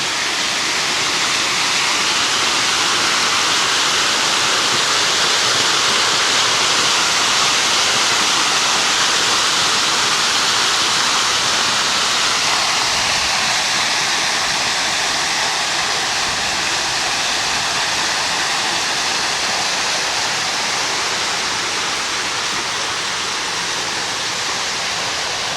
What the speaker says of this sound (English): See how large the waterfall is.